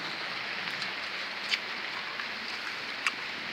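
Steady rain patters outdoors in a garden, a soft even hiss with a few sharper drops landing nearby, faint and continuous with no voices.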